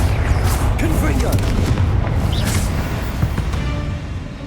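Confringo fire-blast spell going off in the Hogwarts Legacy video game during combat in the Final Repository: a loud booming explosion burst with rumbling low end and crackling debris, dense and continuous throughout, with voices under the blasts.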